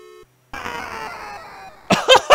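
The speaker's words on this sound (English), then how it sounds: "The sound effect! It's too good! Oh, I love that scream." A scream sound effect from the video game Sewer Sam follows a short beep and drawn-out falling electronic wail; loud, close voice bursts cut in right after.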